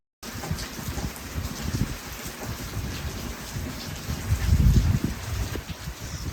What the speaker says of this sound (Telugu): మేము ఉదయం లేచేసరికి బయట వర్షం పడుతుంది